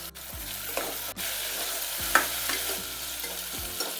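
Tomato, ginger and garlic fry in hot oil in a pan, a close steady sizzle broken by a few sharp clinks and scrapes of a stirring utensil, with no voices.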